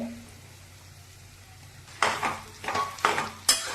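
Quiet kitchen noise, then a series of loud scraping, stirring bursts as mashed potato is stirred into a hot tempering in the pan with a faint sizzle, repeating roughly every half second to second.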